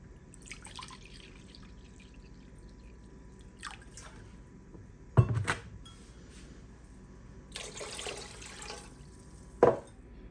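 Vinegar poured for pickling okra, heard as a few brief liquid splashes and trickles spaced apart in a quiet kitchen, with a faint clink.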